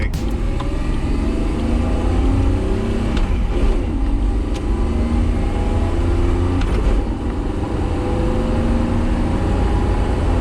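A stripped-out Datsun 280ZX race car drives along, its engine droning loud and close inside the bare cabin, with slowly rising and falling revs under heavy road and wind roar.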